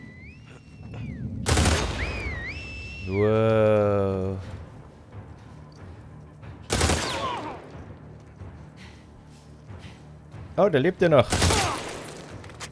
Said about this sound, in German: Feuerstoß ist ehrlich gesagt relativ nutzlos.